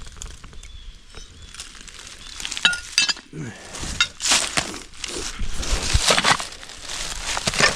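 Broken glass butter dish pieces clink and rattle as they are handled outdoors at an old church dump site, with scattered sharp taps that grow denser and louder toward the end.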